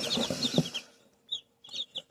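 Newly hatched chicks in a home incubator, a mix of bought crossbreeds and Kuchin chickens, give a few short high peeping chirps in bursts, near and moderately loud, after a busier opening stretch.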